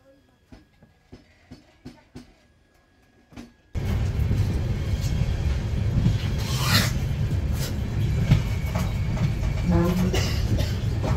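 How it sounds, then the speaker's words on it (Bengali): Darjeeling Mail passing alongside a moving Kanchankanya Express, first a few faint rhythmic rail clicks in quiet, then a sudden loud, steady roar and rattle of the passing train close by for the rest of the clip. "পাশ দিয়ে দার্জিলিং মেল কার সেটে ঢুকছে।"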